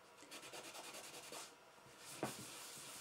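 Sanding the edge of a wooden armchair frame, heard as a quiet, close, rhythmic rubbing in small repeated strokes.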